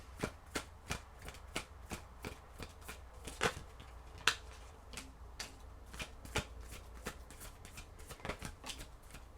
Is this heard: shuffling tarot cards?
yes